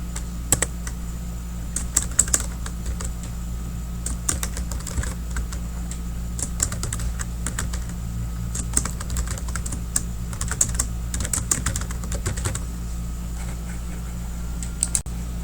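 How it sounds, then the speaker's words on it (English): A paragraph being typed on a computer keyboard: steady, close keystroke clicks in fast irregular runs over a constant low hum, with short pauses between bursts and no voice. "Now I'm going to double space and type our first paragraph."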